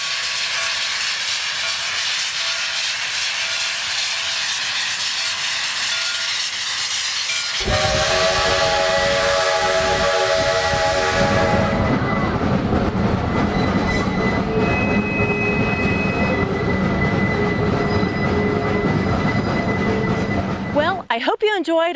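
A historic steam locomotive at Cass, West Virginia chuffs and hisses loudly up close, with a long, shrill steam whistle sounding over the rumble, ending in a sharp burst.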